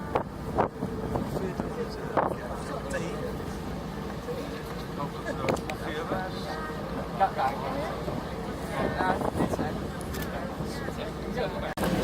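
A ferry crossing from Kettering to Bruny Island, heard from inside a bus aboard: a low steady engine rumble mixed with wind buffeting, scattered clunks, and people talking over it throughout.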